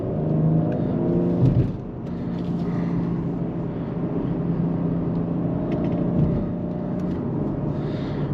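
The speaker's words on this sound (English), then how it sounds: "Now it's shifting by itself." A 2022 BMW X4 M Competition heard from inside while driving, with a steady engine drone and road rumble and a brief rise and dip around an automatic gear change.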